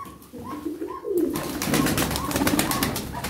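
Pigeons coo repeatedly in soft, rolling phrases, close by, over a steady background hiss of outdoor noise.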